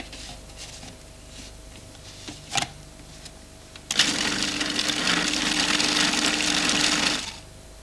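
A kitchen blender mixing ingredients for a Catalan meat dish of lamb, pork and liver, whirring loudly and steadily for about three seconds after a brief knock, close by with no talk over it.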